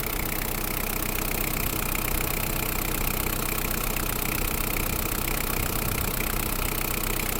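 A 1.5-litre diesel engine on a Kubota GT8 mini tractor idles steadily, a continuous rough knocking rumble close by, unchanging in level from start to finish.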